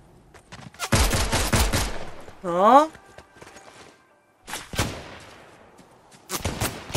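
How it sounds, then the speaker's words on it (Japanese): Gunfire in the video game Fortnite crackles in distant rapid bursts, one long volley followed by two shorter ones, with a brief game chime between them and a single short spoken word. "こんな人だと離れたとこで銃声する。"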